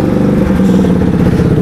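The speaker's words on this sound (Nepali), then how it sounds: "म बाइक स्टार्ट गर्छु है, let me just warm up it" A motorbike engine idles close by while warming up, with a loud, steady low throb and rapid pulsing firing rhythm that holds even throughout.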